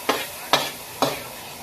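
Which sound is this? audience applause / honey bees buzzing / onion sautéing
onion sautéing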